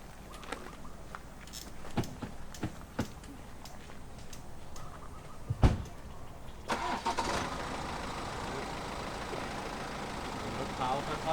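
A car idles and then pulls away slowly on a Thai TV drama set, with a rising engine rumble after several sharp knocks and thumps and voices talking throughout.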